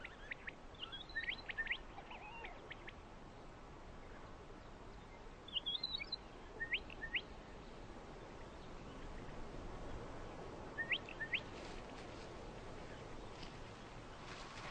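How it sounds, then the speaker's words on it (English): A weaver bird calls near a flowering quiver tree in the desert, giving brief, high, faint chirps in a few scattered bursts over a soft, steady background hiss. "Their nectar makes a welcome meal for this weaver bird."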